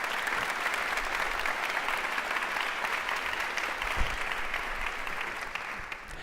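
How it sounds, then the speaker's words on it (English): Steady, dense audience applause filling a large hall during a university State of the University address, sustained and even with no speech over it. "how about a big round of applause for our Presidential Leadership Board?"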